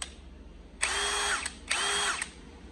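An AEG Fusion cordless drill with a 13 mm metal auto-lock chuck and 24 clutch settings whirs in two short, loud bursts close by. Each burst spins up to a steady whine and then winds down, with no talking.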